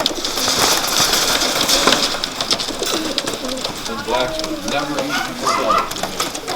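Pigeons coo softly in a low, repeated murmur close by, with a voice talking over them.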